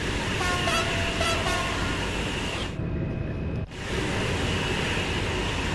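An LGV Duplex high-speed double-deck train passing by on the LGV Méditerranée line in Train Sim World 2, a loud, continuous rushing roar with tonal hums and a brief horn-like tone early on, then a sudden drop as it goes by.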